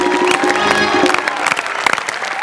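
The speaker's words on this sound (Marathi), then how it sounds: "आज आपल्या शाळेला पंचवीस वर्ष पूर्ण झालेले जोरदार टाळ्या हो" Audience applause at a Marathi comedy stage show, a dense, loud burst of many hands clapping that runs throughout, with a faint murmur of the crowd beneath it.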